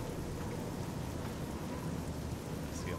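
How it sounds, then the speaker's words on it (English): Rain in the video game Fallout New Vegas, a steady soft hiss of falling drops that stays even and fairly faint throughout, with no speech over it. "it went from snow to rain."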